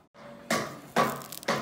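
Tomatoes being chopped with a knife on a cutting board while preparing vegetable and chicken chow mein, three distinct close chopping thuds spaced about half a second apart with no talk.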